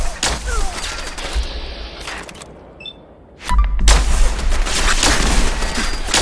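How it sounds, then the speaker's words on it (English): Heavy bursts of gunfire in the video game Fallout 4, loud overlapping volleys of rapid shots that pause briefly in the middle and then resume even harder, near and dense. "Fire at will!"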